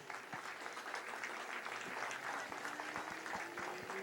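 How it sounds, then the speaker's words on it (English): Crowd applause at a girls' high school soccer senior night, Belle Vernon at Laurel Highlands, with steady clapping throughout and a few sharp louder claps up close, faintly mixed with the murmur of the crowd. "now have a nice big round of applause for all of our seniors"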